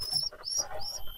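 Two dark-coloured pigeon chicks call for food, giving thin, high, wavering cheeps in quick succession, close by and fairly quiet, over a soft low rustle.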